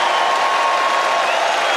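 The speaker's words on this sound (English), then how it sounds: "Rapturous applause for their hero." Rapturous applause and cheering from a large political rally crowd as Donald Trump takes the stage, a dense continuous roar of clapping that holds steady throughout.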